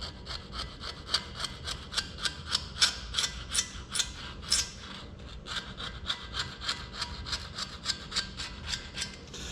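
Rust being scrubbed out of the counter bores of an Oliver 1855 tractor engine block during a rebuild, a fast steady back-and-forth rasping of about twenty close strokes with a brief pause midway.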